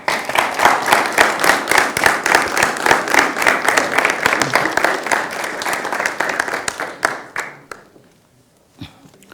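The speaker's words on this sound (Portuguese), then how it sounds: "aplaudam-no porque ele merece" An audience at a presentation by a designer in a presidential palace hall breaks into loud, dense applause that holds steady, then thins to a few scattered claps and fades into near silence.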